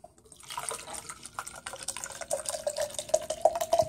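Water poured from a tap or bottle into an MTS shaker bottle, a trickling, splashing fill that rises in pitch as the container fills, close and alone.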